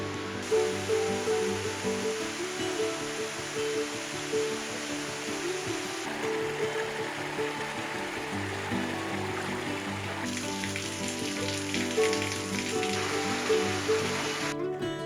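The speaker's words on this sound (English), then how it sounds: "It's so quiet you can hear the water splash down on the shore." Water washes gently and continuously against the shore of a large Swedish lake, a steady close splashing and lapping in quiet surroundings with no voices.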